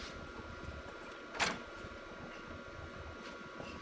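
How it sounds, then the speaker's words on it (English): DigiXpress envelope feeder powered up and pushing a #10 envelope under a printer's feed roller: a steady mechanical hum with one brief sharp whirring burst partway through. "Power the feeder up, presenting an envelope underneath the feed roller on the printer."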